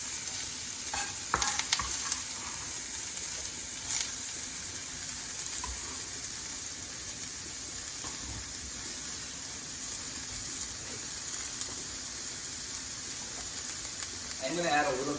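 Onions frying in a pan give a quiet, steady sizzle with occasional stirring clinks and scrapes, heard close and continuous over a faint background hum.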